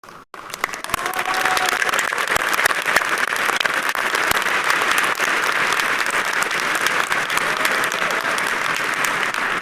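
Sustained audience applause fills a university commencement ceremony, steady and dense from start to finish after a brief quiet opening, with no speech over it.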